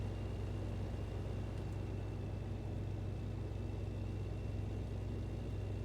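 A heavy truck engine in American Truck Simulator drones at a steady low rumble, faint and constant with no change in pitch and no voices.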